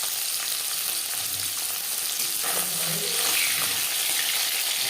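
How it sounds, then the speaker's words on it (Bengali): Bele fish sizzles in hot refined oil in a pan, a dense continuous frying hiss with a brief stir or splash partway through, close and fairly loud, no talk. "রিফাইন্ড অয়েল গরম করে নিয়েছি দিয়ে নেব মাছ"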